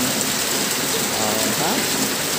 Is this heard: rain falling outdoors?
yes